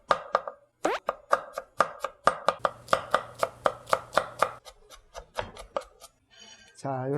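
A knife finely chops onion on a board in quick, even, crisp strikes, near and distinct, with a short pause partway through and a scraping sound near the end.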